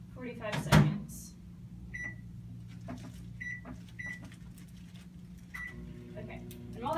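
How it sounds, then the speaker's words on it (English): Microwave oven running while food heats for about 45 seconds, a faint steady hum under quiet speech, with a loud knock near the start and a few short beeps scattered through. "we're going to put it in the microwave, and we're going to microwave it for about 45 seconds"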